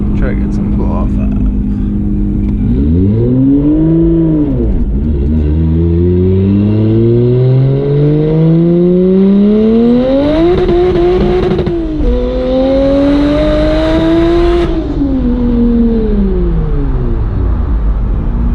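A single-turbo BMW 335i engine revs hard through rising gears at 23 psi boost, loud and close, with pitch climbing and dropping between shifts and a brief blow-off valve hiss as throttle lifts.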